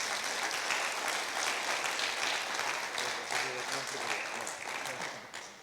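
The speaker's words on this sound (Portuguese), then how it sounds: "Dê uma salva de palmas a Jesus por ele." Church congregation applauding together during a Pentecost service, a steady wash of clapping mixed with scattered voices and chatter throughout.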